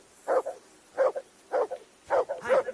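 A dog in a medieval village in Kingdom Come Deliverance II barks in five short, evenly spaced yaps, moderately close, with quiet gaps between.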